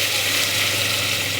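Ground masala and crushed garlic with curry leaves hit a hot pan for okra sambar, giving a loud, steady, dense sizzle that runs unbroken with no talking.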